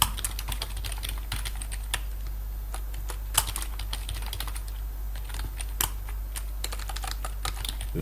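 Rapid typing on a computer keyboard lacking correct accent keys, a steady stream of close, crisp key clicks with occasional louder strikes, alone without talk.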